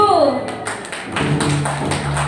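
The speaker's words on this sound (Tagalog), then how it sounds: "Pinagi sa palakpak." An audience at a birthday fellowship gathering claps for a contestant: a short ragged patter of claps beneath and after a speaking voice.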